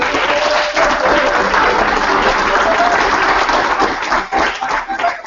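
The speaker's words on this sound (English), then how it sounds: "please a big applause" Sustained applause from a conference audience in a live session hall, honouring the co-chairs; dense, loud clapping fills the room continuously, easing slightly toward the end.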